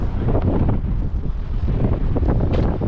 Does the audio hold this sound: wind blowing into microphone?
yes